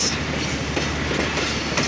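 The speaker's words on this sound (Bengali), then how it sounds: "পার্বতীপুর জংশনে এইমাত্র ২টি ট্রেন এবং আরেকটি ট্রেন এন্ট্রি করলো" Trains pulling into Parbatipur Junction railway platform in Bangladesh, a steady loud rumble of rolling rail cars with faint clickety-clack of wheels throughout, no talking.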